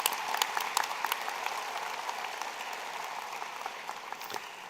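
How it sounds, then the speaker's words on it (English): Sustained applause from a convocation audience honoring board members at a June graduation ceremony in Durham, Greater Toronto Area, steady and dense crowd clapping that holds at an even level throughout without any speech over it. "Please, a round of applause for the board members here today."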